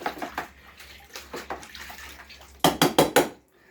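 Water sloshes and splashes as a cleaned aluminum mower part is lowered into a cleaning bath, soft swishing at first and then a short run of four louder splashes before it goes quiet.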